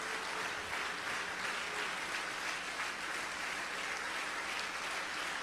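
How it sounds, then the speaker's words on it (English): A church congregation claps along during a hymn, producing a faint, distant wash of many hands clapping steadily in the background throughout. "Clap your hands for the Lord."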